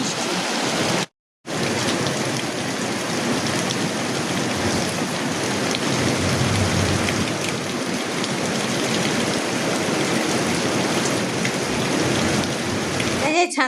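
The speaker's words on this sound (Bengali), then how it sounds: "এক নাগাড়ে বৃষ্টি।" Heavy rain pours steadily outdoors, a dense, unbroken roar of drops on surfaces that cuts out only for a moment near the start.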